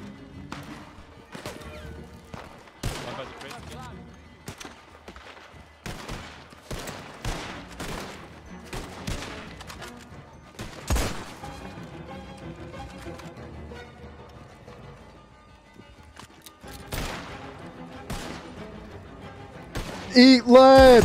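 Suppressive gunfire in the Wild West roleplay game WildRP, a run of sharp shots in irregular bursts over a steady game backdrop, with voices talking through it and a louder clatter at the end.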